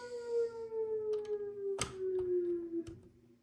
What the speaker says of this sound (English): Sorry about the tornado siren.